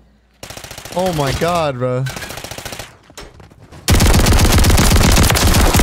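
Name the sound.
automatic shotgun firing in a video game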